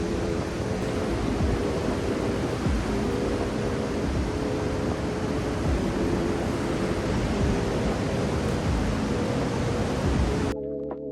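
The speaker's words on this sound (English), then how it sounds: "Nice looking surf out there today." Ocean surf rolling in steadily beneath the Ocean Beach pier, a dense continuous wash of breaking waves at a constant loud level for about ten seconds, then cutting off abruptly near the end.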